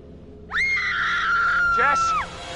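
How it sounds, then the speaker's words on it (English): A single long, piercing scream, a voice, rings out in the horror game Until Dawn, rising sharply and holding steady for nearly two seconds before breaking off, loud against a low ambient background. "I heard screaming."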